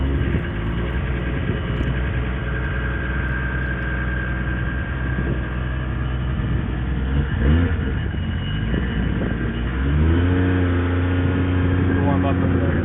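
A car engine cranks and fires up, then settles into a deep rumbling idle with a couple of revs near the end, close by, while people talk excitedly over it.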